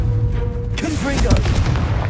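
A Confringo fire spell blast in Hogwarts Legacy erupts as a loud burst, with rumbling booms and crackling over game sound for about two seconds.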